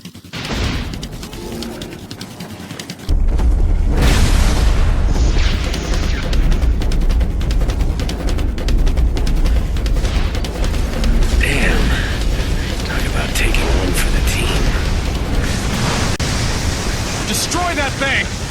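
A huge explosion in the inFamous video game bursts in around three seconds as a loud, sustained broadband roar that rumbles on without letup for the rest of the stretch.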